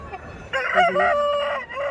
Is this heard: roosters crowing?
yes